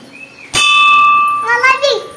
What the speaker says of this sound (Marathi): घंटी वाजूया आपण